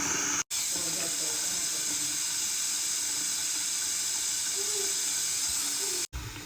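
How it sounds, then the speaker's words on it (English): A bathroom sink tap runs steadily, a constant close hissing rush of water that continues unbroken apart from two brief cuts. "First, we finna run some water."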